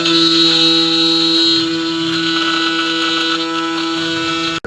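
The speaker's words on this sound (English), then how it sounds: "The noise you're hearing in the background is a CNC machine." A CNC machine running in a machine shop, giving a steady high mechanical whine with sustained tones at close range that drops off abruptly at the end.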